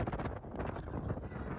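Strong desert wind near Dubai buffets the microphone with constant, loud, rumbling gusts and no clear voices.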